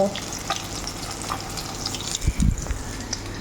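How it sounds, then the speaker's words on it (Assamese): Fish fries in a pan of oil, a soft sizzle with scattered pops and a couple of louder scraping knocks near the end, heard close with no voices. "এয়া মাছ ফ্ৰাই কৰি আছোঁ।"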